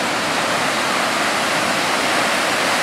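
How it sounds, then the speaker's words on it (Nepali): Waterfall near Santaneshwor temple outside Kathmandu roars in a dense, unbroken rush of falling water, loud and close with no voices. "झर्ना हो है"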